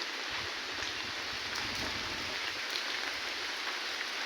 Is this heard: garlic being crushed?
no